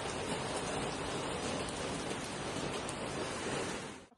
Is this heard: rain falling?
yes